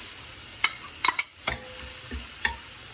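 Onions sauté in a pan for a masala, a low hiss of frying under a handful of sharp spatula scrapes and clacks spaced irregularly across a few seconds.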